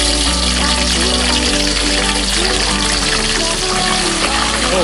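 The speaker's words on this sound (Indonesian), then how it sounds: "Sekarang kita masukkan ikannya ya." River fish sizzle in hot oil in a frying pan, a loud steady crackling and spattering hiss that continues unbroken throughout with no talking.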